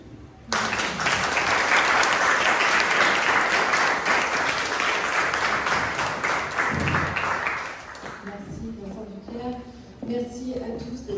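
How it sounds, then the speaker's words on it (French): An audience applauds at the opening of a colloquium marking the 110th anniversary of the Armenian Genocide at the Hôtel de Sully. Loud, sustained clapping lasts about eight seconds, thins out and fades, and a voice then begins speaking. "on peut même l'applaudir."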